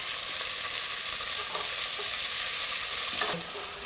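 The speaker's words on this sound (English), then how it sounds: "Put them in. Give them a wee mix round." Defrosted frozen peas stirred into a frying pan for muttar pilau, a continuous close sizzle with soft stirring scrapes and no voices.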